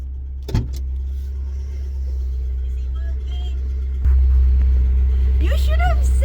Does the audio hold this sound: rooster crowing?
no